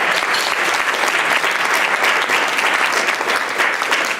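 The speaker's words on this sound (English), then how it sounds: "Please give another round of applause for Ms. Matthews." Steady, dense applause from a large audience at a National Council of Negro Women STEAM expo, continuous and loud for the whole stretch with no pauses.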